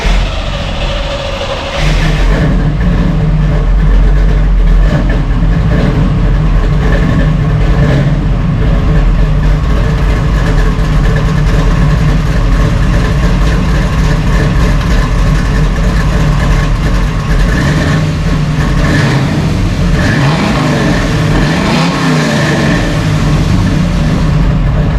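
A 1968 Chevrolet Nova Super Sport V8 runs through its stock exhaust, idling with a loud, deep, steady rumble close by and swelling in a few revs toward the end.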